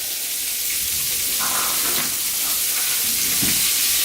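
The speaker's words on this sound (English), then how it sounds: "We've got our olive oil's been heated up already, so we're going to put our leeks" Leeks sizzle in heated olive oil for a pea soup, a loud, continuous hiss of frying filling the clip with a few faint stirring scrapes underneath.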